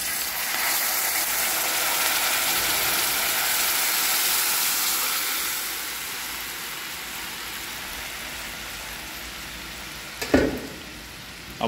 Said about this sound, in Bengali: যে সসটা আমি বাই মিক্সে ব্লেন্ড করে রেখেছিলাম এটা ঢেলে দিলাম